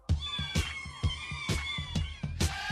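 A pet cat meows repeatedly and loudly up close, a string of insistent, drawn-out cries coming in a steady rhythm of roughly two per second.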